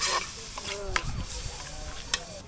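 Chicken liver frying in a paste of onion, garlic and chilli powder, a steady close sizzle with scraping stirs and a couple of sharp utensil knocks, over faint background voices.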